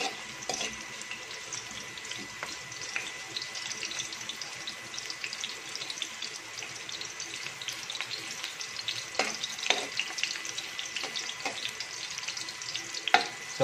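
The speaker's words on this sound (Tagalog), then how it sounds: "Ngayon, kapag mainit na po, umpisa na natin ilagay ang ating sibuyas." Onions sizzle and crackle in a hot pan, the first step of a native chicken tinola; a steady, close, bright frying hiss runs throughout with a few sharper pops and stirring clicks, and no voices.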